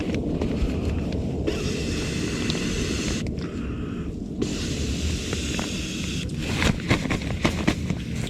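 Steady, breathy rush of air blown by mouth into an inflatable item at a tent camp on a frozen lake, close and continuous with a couple of short pauses for breath.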